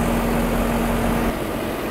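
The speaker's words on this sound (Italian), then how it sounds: "In questi giorni sto usando il Massey Ferguson 6616, è un motore 4 cilindri" A Massey Ferguson 6616 tractor with a four-cylinder engine idles close by, a steady droning hum with a sustained tone that drops slightly in level partway through.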